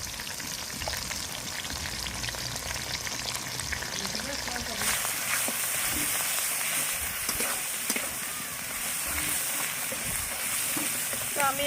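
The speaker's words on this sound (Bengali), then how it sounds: "তো আমি এবারে ভালো করে মশলাটা কষিয়ে নেব" Ground ginger and cumin paste with turmeric fries in a pan, a dense steady sizzle that grows brighter and louder midway, with occasional stirring scrapes.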